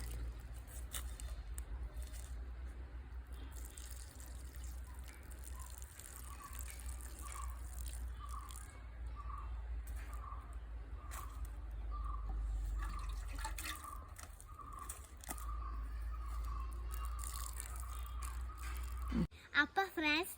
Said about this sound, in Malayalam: നമുക്ക് ഇതിന് കുറച്ചും കൂടെ വെള്ളം ഒഴിച്ച് കൊടുക്കാം.